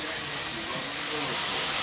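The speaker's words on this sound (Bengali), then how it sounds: "এই দেখো মিক্সি মেশিনে পেঁয়াজ, রসুন, আদা আর কাঁচা লঙ্কা দিয়ে এটাকে এখন পেস্ট করে নেব।" Mixer grinder blending a paste of onion, garlic, ginger and green chilli, a loud steady broadband whirring roar that holds constant and swells slightly toward the end, with no talk over it.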